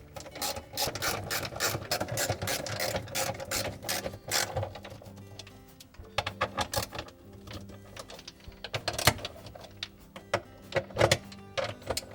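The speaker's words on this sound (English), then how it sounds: "We'll reinstall the 5/16 head screws." Screws with 5/16 heads being driven back into the discharge pump housing of a Maytag dishwasher, heard as bursts of close ratcheting, whirring driver mechanism sounds with brief pauses between screws.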